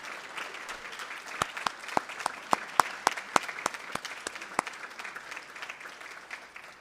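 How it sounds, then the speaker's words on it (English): An audience at an evening community event applauds its volunteers with sustained clapping, several sharp nearby claps standing out over the steady crowd patter. "please stand up so we can give you one quick round of applause"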